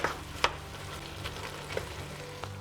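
Lecho with tomato purée stirred in a pot, with a low steady simmering sizzle and a few soft spoon scrapes and clinks spaced out, close and fairly quiet.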